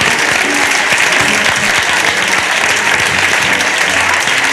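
A TV studio audience claps steadily and densely, a loud continuous wash of applause that holds at the same level throughout.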